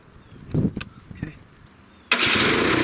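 A PowerSmart 24-inch 212cc snowblower engine catches on its electric start after a few faint clicks and rustles, then roars into a loud, steady, broadband run that holds to the end.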